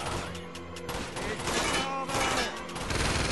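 Bursts of rapid gunfire in the video game Uncharted 2: Among Thieves, including shots from a rooftop, rattling steadily with voices and game sounds mixed in.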